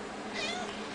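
A fat pet cat lets out a single drawn-out meow up close, rising and falling in pitch over a background hum, with no talking during the call.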